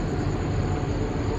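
Steady low rumble and rolling clatter of an overnight passenger train, heard from on board in the Australian outback, continuous and fairly loud with no talk.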